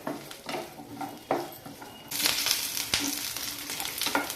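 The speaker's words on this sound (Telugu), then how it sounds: "ఇవి కొంచెం ఫ్రై చేసుకోవాలి, కొంచెం అంతా ఫ్రై" Raw brinjal (eggplant) pieces fry in oil, with a soft sizzle and spoon taps that jump into a louder, brighter hiss about halfway through, then keep crackling steadily up close.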